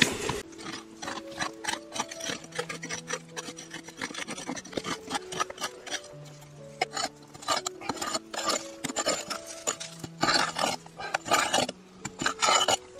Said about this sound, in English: scraping it so to expose the cracks